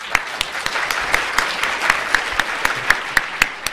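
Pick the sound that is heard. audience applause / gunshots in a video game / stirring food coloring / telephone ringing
audience applause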